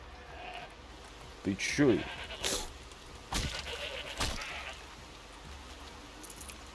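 A goat in the video game Horizon Zero Dawn bleats a few short, wavering calls near at hand against a quiet outdoor backdrop, and someone speaks briefly between them.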